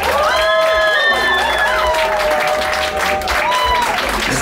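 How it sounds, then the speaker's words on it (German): A festival audience in a reading tent at Burg Herzberg Festival 2023 breaks into loud, sustained applause and cheering, dense clapping with a few whoops and shouts, close and continuous throughout. "Ein Applaus für den Text!"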